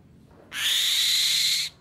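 A hand-raised five-month-old white kite with yellow eyes gives one loud, close, sustained screeching call lasting just over a second, standing out alone against a quiet background.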